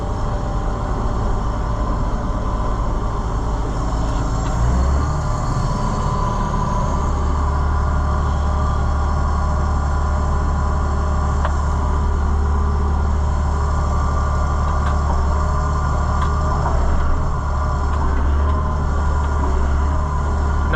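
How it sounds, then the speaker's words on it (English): A front wheel assist tractor engine drones steadily and loudly throughout while the machine turns in a field during fertilizer spreading, a constant low rumble with no voices. "Front wheel assist tractor takes 40 acres to turn."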